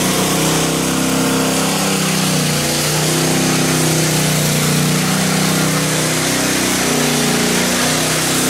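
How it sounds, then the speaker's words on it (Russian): Power grinder smoothing a freshly poured concrete surface on a building site in central Riga, Latvia, a loud, continuous abrasive roar with a steady motor whine and no pauses throughout. "Один из рабочих, он делает шлифование поверхности"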